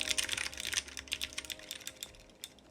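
Fast, close typing on a Freebird 60 mechanical keyboard fitted with iRocks blue switches, giving a steady run of bright clicky keystrokes with no voice.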